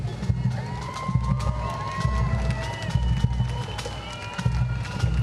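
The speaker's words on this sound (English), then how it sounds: "Listen to the applause, too, from the crowd." A parade crowd at an Oceanside Independence Day parade applauds and cheers as the kilted Celtic Nations Pipe Band passes, a steady outdoor roar of hands and voices with faint piping tones drifting over it.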